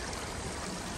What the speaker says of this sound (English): It's just a little trickle coming down these rocks.